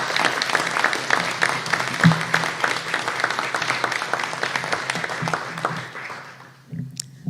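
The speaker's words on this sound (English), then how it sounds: "Let's give one more round of applause for our Honor Cord students." An audience at a military cording ceremony applauds honor cord students, with sustained clapping that holds steady for several seconds, then thins out and fades toward the end, leaving a few scattered claps.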